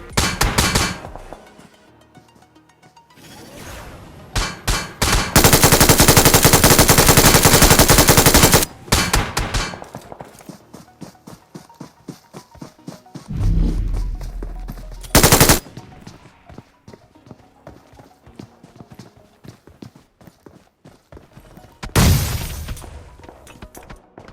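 Bursts of automatic gunfire in the BGMI battle royale mobile game, loud rapid volleys recurring through the clip with sharp single shots between them and no talk over them.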